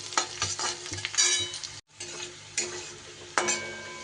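Green chillies and cashews frying on a low flame in a pan: a gentle continuous sizzle with intermittent stirring scrapes and light utensil knocks, heard close and without talk.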